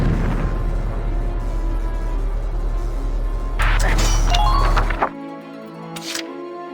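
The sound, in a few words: shot and explosion destroying a tower, video game Valkyria Chronicles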